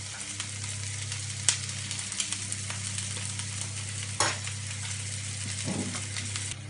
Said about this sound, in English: I've chopped up some red onion, mushrooms, tomatoes, stick them in.